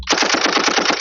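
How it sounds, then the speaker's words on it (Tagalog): Machine gun fire rattles in one rapid continuous burst of about ten evenly spaced shots, loud and close, lasting roughly a second with no voices over it. "Ba't may baril dito?"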